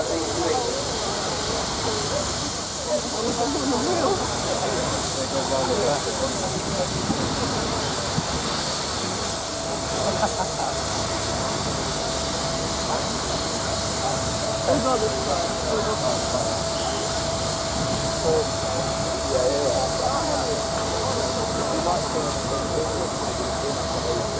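A steam ploughing engine hisses steadily at an outdoor steam rally, a loud continuous rush of escaping steam that fills the whole stretch, with someone talking faintly underneath.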